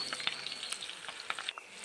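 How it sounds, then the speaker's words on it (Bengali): Sliced medium onion lightly frying in oil for chilli chicken, giving a soft, steady sizzle with faint crackles and small pops over nearly two seconds, quiet and close, with no talking. "আর এখন আমি এটিকে হালকাভাবে ভেজে নেব।"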